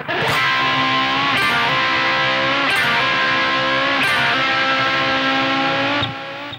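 A distorted electric guitar plays a solo phrase, loud sustained notes shifting in a few steps before cutting off near the end.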